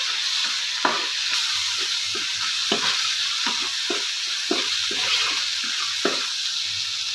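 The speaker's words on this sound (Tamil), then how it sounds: "இந்த இஞ்சி பூண்டோட வந்து நம்ம வெங்காயம் வந்து நல்லா வதங்கணும்" Onions with ginger and garlic fry in a pan, a steady sizzle broken by repeated scrapes and stirring strokes through the whole stretch, fairly close and with no one talking.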